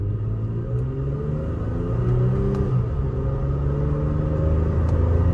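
A Toyota Tacoma pickup with an Overland Torque Tune, set to sport mode, accelerates with a deep, steady engine rumble heard from inside the cab, its pitch climbing gradually as it pulls harder, with no talking.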